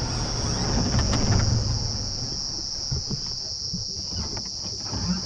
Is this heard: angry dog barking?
no